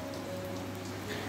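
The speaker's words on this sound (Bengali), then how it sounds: "দেখেছো কি জোরে বৃষ্টি পড়ছে।" Heavy rain falls steadily outside as a dense, even hiss of drops on surfaces, faint and a little distant, with a low hum beneath it.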